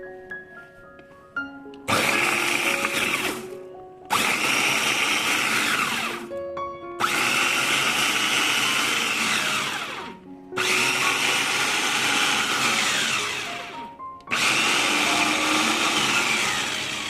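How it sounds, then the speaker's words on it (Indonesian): An electric food chopper grinds spice paste for dried salted squid dishes in five loud motor bursts of about two seconds each, separated by brief pauses, with a whirring blade tone rising as the paste breaks down. "Untuk cara kerjanya chopper ini gampang banget dan simple banget, terus dia cepet banget"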